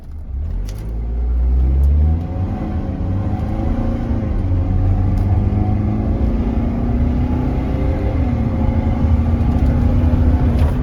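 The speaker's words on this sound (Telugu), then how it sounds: "సో మనం 0 to 100 కూడా టెస్ట్ చేద్దాం ఒకసారి అయితే." A 2012 BMW X3 xDrive 20d diesel engine pulls hard from a standstill in a 0 to 100 run, a loud, close rumble whose pitch climbs steadily, dips briefly at a gear change, then rises again.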